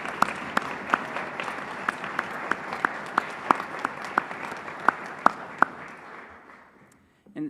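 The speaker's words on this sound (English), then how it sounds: "Can you please have a round of applause for the real rock stars here," An event audience at a leadership celebration gives a round of applause for the Resource Central team, a moderate, steady wash of clapping with a few sharp, close claps standing out, fading away toward the end.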